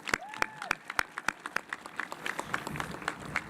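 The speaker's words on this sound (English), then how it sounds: "I think we should all give them a round of applause." A high school commencement crowd applauds the class advisors, beginning with a few sharp, distinct claps and quickly building into a broader, moderately loud patter of clapping.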